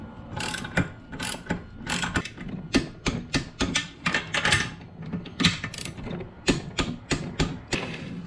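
Ratchet wrench torquing down the cylinder head on a Tillotson 212 small engine fitted with billet rod, repeated bursts of close, loud clicking ratchet strokes in a steady rhythm with short pauses between pulls.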